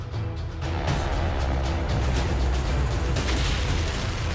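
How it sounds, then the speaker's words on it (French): Atlas intercontinental ballistic missile igniting at launch, a dense, continuous low roar and rumble that swells and holds steadily throughout, loud and unbroken with no voices. "Mise à feu. Le missile Atlas est un missile balistique intercontinental mis au point par l'armée américaine"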